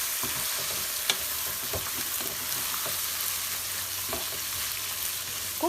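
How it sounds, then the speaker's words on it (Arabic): Oil sizzles in a single pot as rice and lentils are stirred together for Egyptian koshari, a steady frying hiss broken by occasional scraping and knocking of the spoon against the pot. "نقلب بقى كله في حله واحده."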